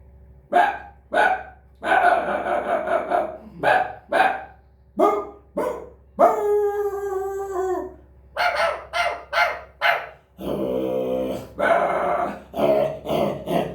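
A mimicry artist uses his voice to imitate three or four street dogs fighting, with rapid loud barks, yelps and snarls in quick irregular bursts, close and alone.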